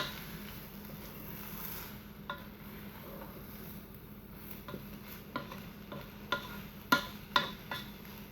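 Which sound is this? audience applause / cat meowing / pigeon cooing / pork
pork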